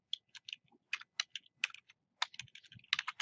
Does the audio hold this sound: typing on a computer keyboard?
yes